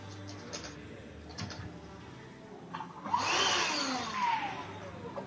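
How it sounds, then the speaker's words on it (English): A vacuum cleaner runs somewhere in a pool hall during a 10-ball tournament semifinal, its whooshing motor rising partway through and then holding as a steady, moderately loud drone with a shifting whine. "Somebody's running the vacuum."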